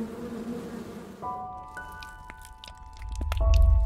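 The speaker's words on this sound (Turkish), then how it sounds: "Bal arıları." Honey bees buzz on the Eğriçayır highland plateau, a fairly faint hum with a few passing drones close by, and a low rumble rising toward the end.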